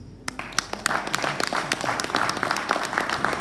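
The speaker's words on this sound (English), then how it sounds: "I think the round of applause should go to Oakland West." An audience at an annual farm symposium breaks into applause, sharp individual claps at first quickly thickening into dense, steady clapping from many people that carries on to the end.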